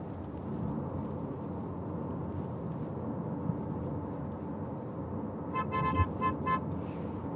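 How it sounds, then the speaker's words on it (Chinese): A car horn toots in a quick series of short honks near the end, over the steady rumble of road traffic heard from inside a moving car. "刚准备睡觉就被这个喇叭声给我叫醒"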